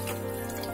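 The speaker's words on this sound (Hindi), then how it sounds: "अब मैं इसमें पानी डालूंगी" Water pours into a pressure cooker on a gas stove, a short, steady splashing stream, close and moderately loud, with no talking.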